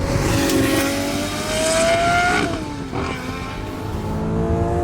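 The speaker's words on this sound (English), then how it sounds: "Just working it and making that V12 just howl behind you" A Lamborghini Murcielago LP670-4 SV's naturally aspirated V12 howls as it revs up through the range, drops off at a shift and climbs again, loud and steady from inside the car.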